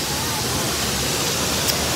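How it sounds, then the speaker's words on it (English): Waterfall at an American zoo, a dense steady rush of falling water filling the scene at close range, with a voice briefly present. "I'm going to show you this waterfall."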